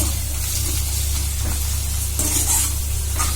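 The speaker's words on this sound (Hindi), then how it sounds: "तो इसको ज्यादा फ्राई नहीं करना है।" Small fish fry in a pan with a steady, loud, close sizzle and a few stirring scrapes, with no voices.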